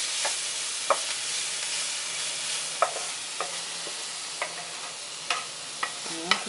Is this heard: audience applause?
no